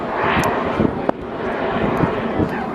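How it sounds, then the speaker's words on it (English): An aerobatic airplane powered by a Lycoming 540 engine drones loudly and steadily at an air show, and a voice talks faintly beneath the engine noise. "So the main power plant is the Lycoming 540."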